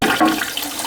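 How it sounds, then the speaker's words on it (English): A high-usage toilet flushes right after its handle is pressed, a loud close-up rush of water filling the whole short moment. "We'll hit the handle and see if it flushes."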